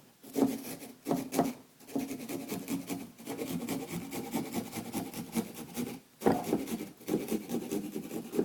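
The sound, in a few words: serrated saw sawing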